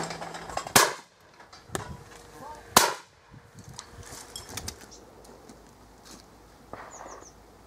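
Two sharp, loud shotgun blasts at a clay pigeon shoot, about two seconds apart, each with a short outdoor echo, followed by quieter handling clicks and faint background chatter.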